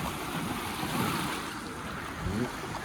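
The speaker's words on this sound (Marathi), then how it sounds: "हा आहे देवबाग समुद्र." Sea waves roll and wash at Devbag beach, a broad steady roar of surf with wind noise, swelling slightly twice over a few seconds; no talking.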